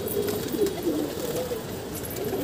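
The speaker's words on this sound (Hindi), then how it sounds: "ये देखिए कबूतर उड़ रहा अपना चीना" A Cheena pigeon flies about over a rooftop while soft cooing and bird calls sound against a steady background murmur, with no voices.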